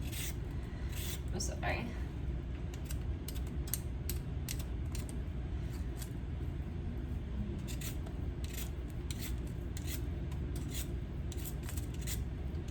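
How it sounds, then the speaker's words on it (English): Carrots being peeled in a home kitchen: a quiet run of quick, repeated scraping strokes, fairly close, with a short spoken remark in between. "I'll go ahead and skin the carrots."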